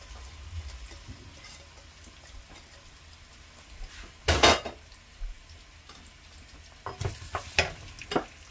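Onions and chicken curry spices go into hot oil, giving a soft sizzle under quiet background, broken by a loud scrape and clatter of a utensil in the pot and a later run of sharp stirring knocks.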